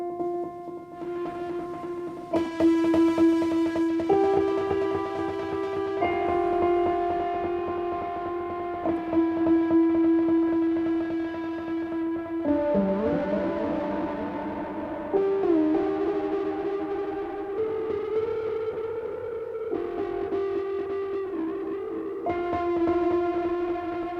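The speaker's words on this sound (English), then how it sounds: "We got a distortion in the end." Sustained synthesizer tones through a SOMA Lyra FX8 effects unit, with echoing delay repeats, shifting pitch and a wobbling, gritty distorted texture toward the latter part, played alone.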